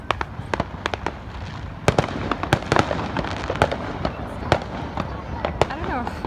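July 4th 2020 fireworks are set off close to a building, with rapid sharp pops, bangs and crackles following one another, some loud and near, as people talk nearby.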